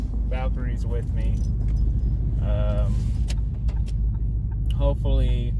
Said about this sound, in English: Driving around in Big Red, Valkyrie's with me.